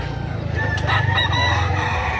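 Rooster crowing at a livestock market amid a steady low crowd and machinery rumble, one fairly near call rising after a brief onset and holding for about a second and a half.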